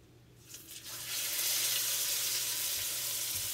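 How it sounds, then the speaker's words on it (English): A pork roast drops into warm oil in a pot and starts searing; after a quiet start with a faint hum, a loud, steady sizzle bursts in and holds close and continuous. "once that oil starts to get, warm in here, we're going to go ahead and add our roast"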